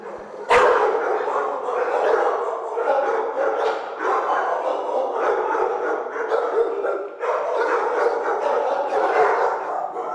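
A blue-coated pit bull barks repeatedly and loudly up close, its harsh barks mixed with yips and whimpering sounds in a continuous agitated run, with a voice faintly underneath.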